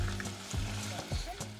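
Steady crackling sizzle of pepper frying in a hot pan, with occasional louder spits and stirring clatter, close by and continuous.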